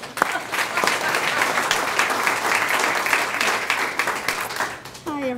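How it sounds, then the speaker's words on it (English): Audience applause at a 2014 awards ceremony, a steady, fairly loud ovation from a full room that dies away near the end, where a voice begins. "Big round of applause"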